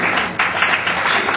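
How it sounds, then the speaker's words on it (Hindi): An audience at a 2005 cartoon festival ceremony applauds, giving a continuous, fairly loud wash of clapping hands with a few sharper claps poking out. "तालियां फिर कम हो रही हैं"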